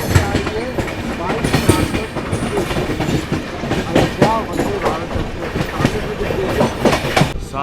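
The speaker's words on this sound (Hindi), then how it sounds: "वाराणसी वंदे भारत। नई दिल्ली वाराणसी वंदे भारत।" Varanasi–New Delhi Vande Bharat Express passes close by, heard from a moving Humsafar Express, with a loud, continuous clickety-clack rush of wheels on rails.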